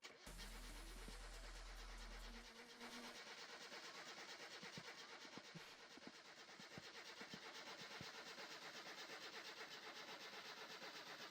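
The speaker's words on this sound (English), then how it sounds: "And start the car." A car engine cranks and turns over in the video game My Summer Car, then settles into a steady, buzzy idle that runs on, with a few clicks along the way.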